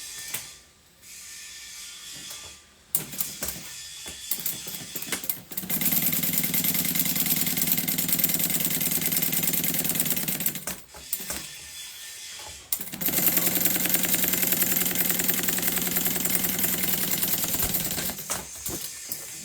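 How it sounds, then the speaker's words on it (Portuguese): Sewing machine running a topstitch, two long steady bursts of fast, close mechanical whirring separated by short pauses and handling noise. "Então, eu vou fazer um pesponto aqui e aqui,"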